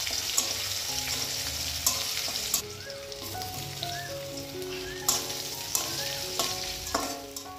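Spices and onions crackle and sizzle in hot oil for a meat curry, a dense spattering hiss with sharp stirring knocks against the pan, and a faint tonal sound running underneath.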